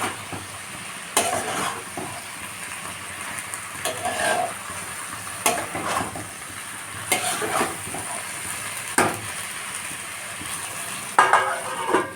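Cabbage cooking covered in a pan over a medium gas flame, a steady sizzle and frying hiss with recurring bursts of stirring and lid or utensil knocks, close and fairly loud.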